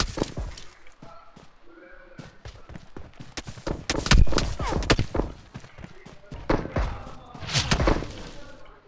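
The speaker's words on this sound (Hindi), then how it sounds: "ये दो बंदे गोली चला रहे हैं ऊपर इस वाली विंडो से" Rapid bursts of video game gunfire crack and thud repeatedly, loud and close, with a voice talking intermittently underneath.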